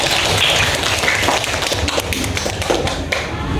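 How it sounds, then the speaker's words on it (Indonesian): Classroom students clap together for a classmate during a maths lesson, a dense burst of many hands close by lasting a few seconds. "tepuk tangan untuk Siti"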